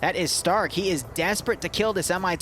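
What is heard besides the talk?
No distinct noise like a dog, phone or traffic.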